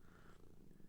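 A male house cat purrs close by, a soft continuous low rumble running steadily through the short moment with no talking over it.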